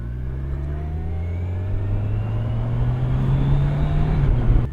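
A 2023 Kawasaki Ninja 1000SX motorcycle engine runs steadily with a low, even drone that rises slightly in pitch as it builds, fairly close and loud, with no talking.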